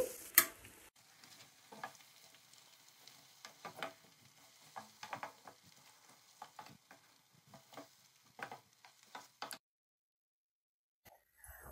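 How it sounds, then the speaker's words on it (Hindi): Masala fries in a pan with a soft crackling sizzle and scattered stirring scrapes, fairly quiet, continuing steadily before dropping to near silence near the end. "मसाला हमारा अच्छे से भुन चुका है।"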